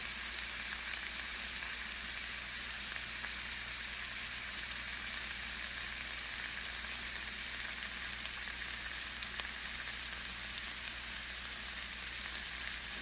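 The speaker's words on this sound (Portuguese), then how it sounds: "Agora é só ir mexendo e deixar fritar." Fried rice sizzling steadily in a hot pan as it is stirred, a dense, even frying hiss holding close and constant throughout with no voices.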